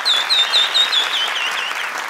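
Studio audience applauding on the Afghan Family Feud game show Ro Dar Ro, a dense, bright wash of clapping with a warbling electronic tone over it.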